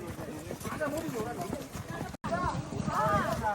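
Horse hooves clip-clop in a steady rhythm on a mountain ride near Shimla and Kufri, among snowy peaks and tall trees, heard under continuous close talking.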